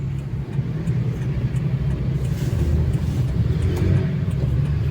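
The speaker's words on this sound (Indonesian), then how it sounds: "Kita lihat agak macet sedikit." Cars idling and creeping in a traffic jam at the Serpong entrance gate, a steady close engine rumble with faint revving, no talk.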